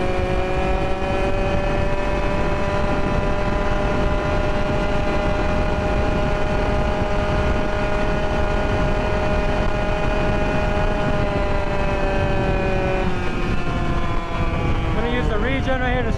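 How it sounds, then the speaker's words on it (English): An Onyx RCR 63cc two-stroke gas engine on a tribrid bicycle runs at full throttle in sport mode, giving a loud, steady, high buzzing drone that holds throughout and shifts pitch near the end. "So right now we're on sport mode. We're gonna go top speed, full throttle."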